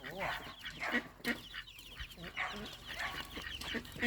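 Chickens cluck and chatter faintly on a farm, with soft repeated calls and scattered bursts of noise at a low, distant level.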